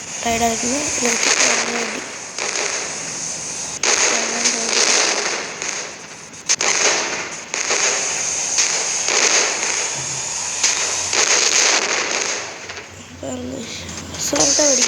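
Firecrackers burst in the Indian Bike Driving 3D game, a steady crackling barrage of pops running throughout, loud and close, with a voice talking over parts of it.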